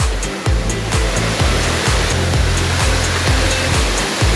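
Steady roar of a mountain waterfall, broadband rushing water filling the whole stretch at constant loudness, close and uninterrupted, with faint low thumps mixed in.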